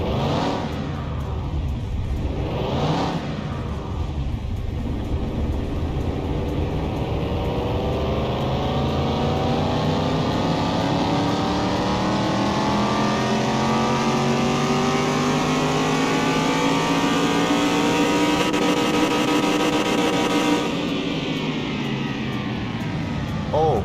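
Simulated car engine on a dynamometer in Car Mechanic Simulator 21, revving steadily and climbing in pitch through a long sustained pull, loud and continuous, with a voice talking over it.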